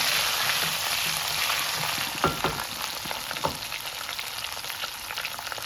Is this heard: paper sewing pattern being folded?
no